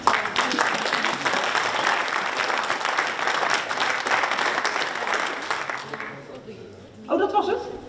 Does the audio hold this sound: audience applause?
yes